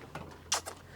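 A drawer slides open with a soft, brief rattle while someone rummages through it for electronics; the sound is quiet and close, with faint handling noise around it.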